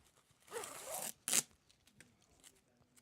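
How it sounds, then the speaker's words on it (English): A turkey wing feather being peeled down by hand, giving two short dry ripping, zipper-like tears close to the listener, separated by a brief pause, with faint handling noise afterward. "This is a turkey wing feather, and you're going to grab the top and peel down."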